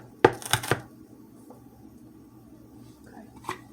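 A knife chops onions on a board in a home kitchen: three sharp close cuts in quick succession, a quiet pause, then one more chop, with faint speech in between.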